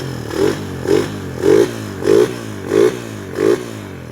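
Suzuki Raider 150 motorcycle with a stock 2019 engine revved in a sound check, six evenly spaced throttle blips rising over a steady idle, close and loud.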